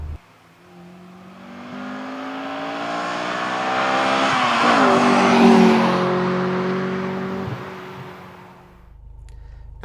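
Honda Accord Euro Type R engine accelerating, a loud, close rising drone that climbs steadily through the revs, dips briefly at a gear change, then climbs again before settling.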